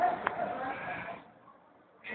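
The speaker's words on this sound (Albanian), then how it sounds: "mos ishin duke pushuar këto dele tek Grand Hotel" Sheep roaming through Shkodër city streets give a loud, close bleat at the start, then the sound fades to quiet before a brief rise of noise at the end.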